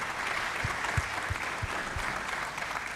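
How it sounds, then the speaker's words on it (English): An audience at a general assembly session applauds its panelists with a dense, sustained wash of clapping that fills the whole stretch at an even, moderate level. "with a round of applause to my panelists"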